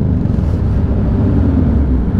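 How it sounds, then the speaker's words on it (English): Motorcycle engines revving loudly and continuously under a bridge at a large bike meet, a dense, steady low roar that fills the whole stretch without pauses. "everyone's revving under this bridge"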